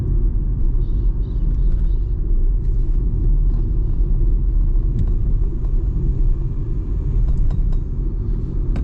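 Steady road roar and low rumble from a 2025 Volkswagen Polo Track driving along, heard from inside the cabin, with suspension thumps and faint ticks over a continuous loud drone and no talking.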